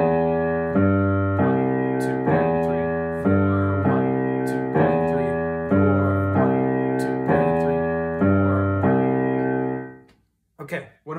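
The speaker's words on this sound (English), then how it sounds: "you can add a grace note slide from the minor third to the major third" A New Orleans rhumba-style piano left-hand pattern that repeats steadily, with grace-note slides from the minor third up to the major third, full and resonant, ending in a brief pause and a short voice.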